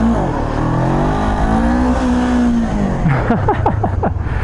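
A Honda CB500F motorcycle engine held at steady revs during a wheelie, loud and close, with its pitch sagging and then breaking into rapid throttle blips and revving toward the end.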